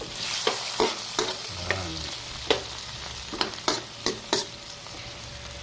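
Squid adobo with egg being stirred in a hot pan, a steady sizzle of frying under repeated sharp scrapes and taps of a utensil against the pan, close by.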